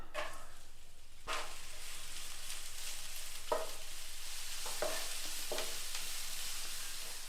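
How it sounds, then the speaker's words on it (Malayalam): Onions sauté in oil left over from frying chicken sausages, a steady close sizzle broken by a few sharp stirring scrapes and clinks. "ഈ എണ്ണയിലേക്ക് നമുക്ക് ഈ ഉള്ളിയും കൂടെ ഒന്ന് വഴറ്റിയെടുക്കാം."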